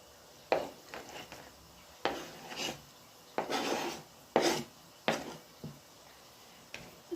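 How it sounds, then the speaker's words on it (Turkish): A knife cuts chicken into small cubes on a board: about eight irregular, crisp chopping strokes, close and moderately loud, with quiet pauses between them and no voices. "Kuşbaşı tarzı doğruyorum."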